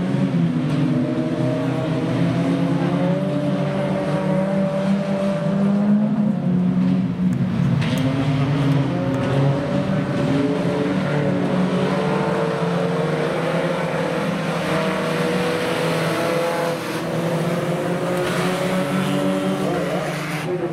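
Jalopy race cars roar around a dirt track, their engines droning loud and steady with shifting pitch as the pack passes, continuous engine noise with no talk.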